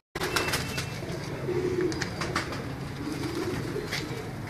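A pigeon coos softly in a few low, rolling calls amid faint background noise in a loft with other pigeons.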